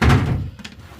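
A drawer in a closet model-train workspace opens with a single loud, close, dull thunk of wood sliding and stopping, followed by a softer rattle as it settles.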